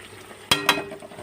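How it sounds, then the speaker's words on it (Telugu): Two sharp scraping strokes of a spoon in a pan stirring frying tender amaranth stems, close and distinct over a faint background sizzle. "ఇప్పుడు ఒక్కసారి కలిపి చూద్దాము"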